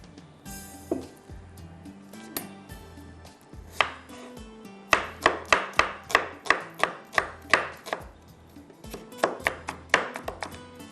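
An onion chopped with a knife on a board, a few scattered cuts followed by fast, regular runs of crisp close chops, pausing once before another quick series.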